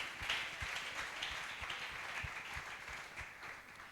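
A church congregation at an eschatological seminar claps together, a steady roomy wash of applause with faint rhythmic taps underneath, continuous and moderately distant.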